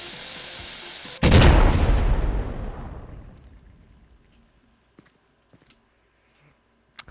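Propane tanks exploding inside a school gym in the fireworks game Fireworks Mania: one loud sudden blast that rumbles and slowly fades over several seconds, followed by a few faint scattered pops.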